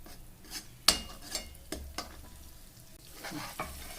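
Oil for frying heats in a pan for a vangi and dried bombil bhaji, giving a low, steady sizzle broken by a few sharp utensil scrapes and clinks close by, with no voices.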